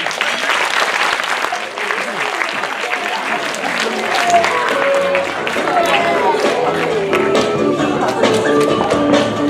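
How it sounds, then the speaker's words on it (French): Audience applause for a 10-year-old girl at a children's festival, a dense, steady wash of many hands clapping that carries on throughout, with some voices and cheers mixed in. "Pauline, 10 ans, on l'applaudit."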